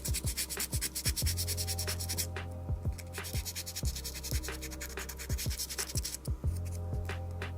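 Folded sandpaper rubs in quick, repeated strokes over the metal body of an Ihagee Exa camera, close scratchy scraping in an irregular rhythm over a low steady hum.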